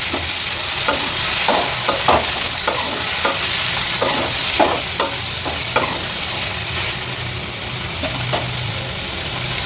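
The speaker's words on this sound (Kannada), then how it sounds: "ಹಾಗೆ ಬೆಳ್ಳುಳ್ಳಿನೂ ಸಹ ಹಾಕಿ ಫ್ರೈ ಮಾಡ್ಕೊತಾ ಇದ್ದೀನಿ" Garlic and tomato fry in a pan with a steady loud sizzle, while a spatula scrapes and taps the pan in a loose repeating rhythm.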